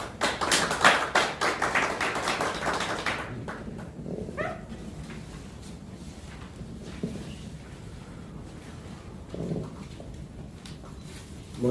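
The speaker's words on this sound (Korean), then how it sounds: "큰 박수 부탁합니다." Applause from an audience at the opening ceremony of the Gungmin Revolutionary Party campaign headquarters, as a monk is welcomed to the stage. Dense clapping fills the first three seconds, then fades to a quiet room with scattered faint sounds.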